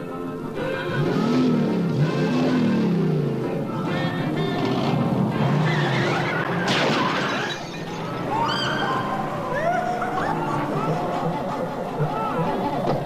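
Car engines rev and rise in pitch in a street-racing scene from the film American Graffiti, with repeated swelling revs, loud and close, under chatter and laughter from several people.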